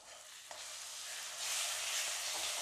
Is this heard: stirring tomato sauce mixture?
yes